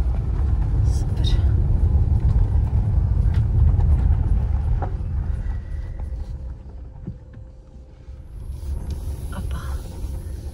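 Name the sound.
car turning around in a parking lot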